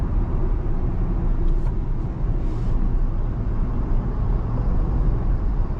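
Tata Punch EV electric car on the road, heard as a steady low rumble of tyre and road noise from the cabin that runs continuously with no talk.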